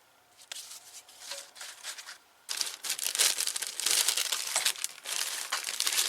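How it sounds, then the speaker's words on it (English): Small paper watch spring envelopes rustle and crinkle as they are handled and packed into craft storage, with soft sparse rustling at first and then louder, continuous close crinkling and shuffling. "I'm going to start by sticking these little watch spring envelopes"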